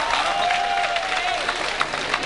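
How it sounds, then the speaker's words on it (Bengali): An audience claps for a minister being welcomed onto the stage at a youth concert; a steady wash of applause fills the whole stretch, with no voices standing out. "একটা জোরে হাততালি হোক।"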